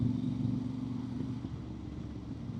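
A Voge DS 800 X Rally motorcycle cruises in fourth gear at about 30 mph with the throttle snapped on and off, producing a low, faint, uneven engine rumble heard alone.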